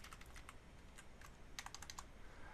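Keystrokes on a computer keyboard while an IP address is entered into network router software, heard as faint, irregular clicks over a steady background hiss, with a brief quick burst toward the end.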